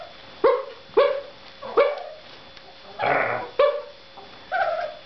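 A small dog yaps about six times in short, sharp, high barks spaced roughly a second apart, close by and fairly loud.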